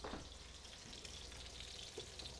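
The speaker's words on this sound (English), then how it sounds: "So while the pork's browning up over here, I'm not going to forget about it" Pork shoulder browning in a pan for a beer braise, giving a steady, soft sizzle and crackle of frying with faint pops, close and continuous, no voices.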